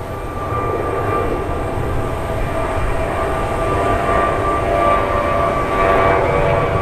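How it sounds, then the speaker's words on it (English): An airliner rolls on the runway at Cleveland Hopkins during heavy rain from Hurricane Nicole, producing a loud, continuous engine roar mixed with rain noise that swells slightly toward the end. "I can actually see the runway again as United 2056 heads for Chicago O'Hare."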